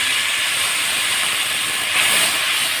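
Loud, steady sizzling hiss of water hitting a hot pan of onion tempering, bubbling and crackling continuously with a brief surge near the end.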